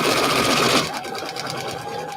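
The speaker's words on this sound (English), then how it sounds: "I sew from the top so I can see the line" A sewing machine stitches fabric in a fast, steady close whir that cuts off partway through, leaving a quieter room tone with faint motor hum.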